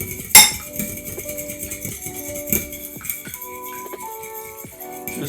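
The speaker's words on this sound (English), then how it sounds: "Just scramble it all up nicely." Eggs being whisked in a bowl for fried chicken strips, with quick clinking taps of utensil against the bowl in an uneven rhythm, close and fairly loud, ringing metallic tones between strikes.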